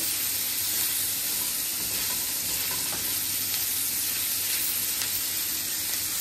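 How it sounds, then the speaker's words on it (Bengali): Boiled flat beans with onion and green chili fry in oil in a close, loud, unbroken sizzle that holds steady without pause. No one speaks. "এখানে আমি পেঁয়াজ কাঁচামরিচ দিয়ে সামান্য একটু লবণ দিয়ে সিমটা সিদ্ধ হওয়ার পরে একটু তেলে ভেজে নিচ্ছি"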